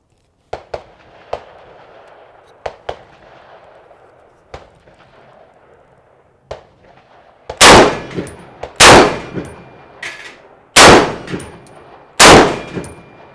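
An MDR bullpup rifle chambered in .308 fires at steel targets outdoors, with several sharp faint clicks early on, then four loud, booming shots spaced about a second or two apart.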